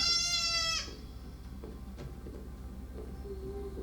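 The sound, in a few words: goat bleating in TV show Severance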